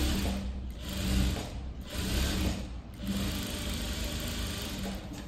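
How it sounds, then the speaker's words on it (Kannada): A sewing machine runs a plain straight stitch along a 1.5-inch strip on a princess-cut blouse, a close, continuous mechanical whirr and rattle that swells in a few bursts without pause. "ನಾನು ನಾರ್ಮಲ್ ಥರನೇ ಸ್ಟಿಚ್ ಮಾಡ್ತಾಯಿದ್ದೀನಿ, ಬರೀ ಪ್ಲೈನ್ ಅಷ್ಟೇ"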